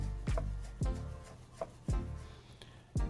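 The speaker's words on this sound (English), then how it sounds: "I'm going to chop some chives, which I'll be adding to the onions for some color" Knife chopping fresh chives on a cutting board: four sharp, separate thuds spaced roughly evenly, close by and fairly quiet, with no talking.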